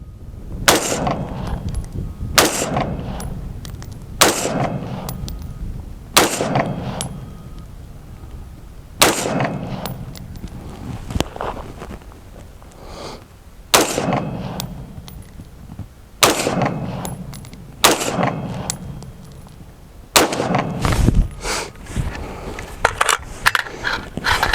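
An AR-style rifle, the Lead Star Grunt, fires from a standing position at an outdoor shooting range. A dozen loud, sharp shots crack out at slow, irregular intervals, each one followed by a ringing echo.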